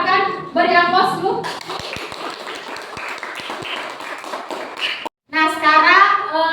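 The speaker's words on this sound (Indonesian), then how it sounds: "Silakan beri aplaus dulu" A classroom group gives a round of applause during a teacher-training biology exam presentation, with several seconds of scattered clapping between stretches of speech.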